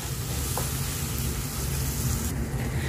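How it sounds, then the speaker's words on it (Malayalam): Ground tomato sautéing in fried masala for an egg kurma gives a steady, close frying sizzle that carries on without a break, with no talking. "നമുക്കിതിലേക്ക് അരച്ച് വെച്ചിട്ടുള്ള തക്കാളി ചേർത്ത് കൊടുക്കാം. ഈ തക്കാളി ഒന്ന് നന്നായിട്ടൊന്ന് വഴറ്റി"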